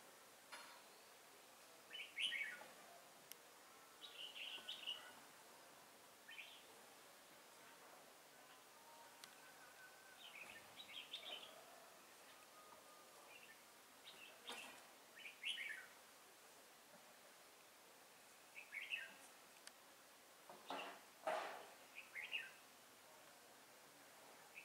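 A red-whiskered bulbul, kept as a decoy bird in mountain forest, sings scattered short chirps and whistled phrases at intervals. The song is faint and distant over a quiet outdoor background.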